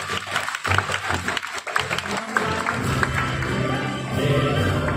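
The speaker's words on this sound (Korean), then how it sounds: "우리 열심히 만들어준 우리 친구들에게 여러분들 큰 박수 부탁드리겠습니다" Audience at a Gunpla building competition award ceremony in an expo hall clapping for young model builders, starting as scattered individual claps and swelling into fuller, steady applause.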